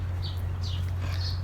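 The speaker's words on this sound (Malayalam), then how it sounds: "കിളികളുടെ ഒരു ശബ്ദം കേട്ടോ?" Faint high bird chirps, three or four short calls, float over a steady low hum outdoors at a farm house in Dammam, Saudi Arabia.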